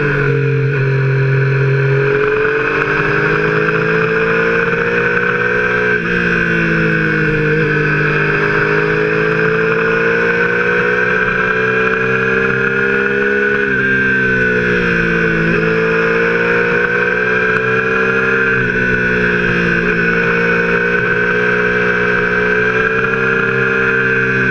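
A Triumph Street Triple RX motorcycle engine runs loud and close in a continuous throaty drone, its pitch rising and dipping gently as the throttle shifts, with no voices over it.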